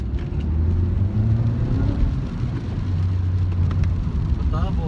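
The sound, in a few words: Suzuki Swift Sport turbo 6-speed manual car driving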